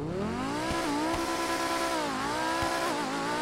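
A twin-turbo Lamborghini in GTA 5 revs hard, its engine note climbing and dipping through several shifts with a loud, steady, raspy drone and brief sharp pops between gears.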